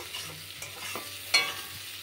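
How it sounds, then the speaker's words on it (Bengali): Onion fries in a pan during home cooking, a faint low sizzle with a few soft stirring scrapes and one sharper utensil clink, quiet and alone. "পেঁয়াজটা ভাজা হোক"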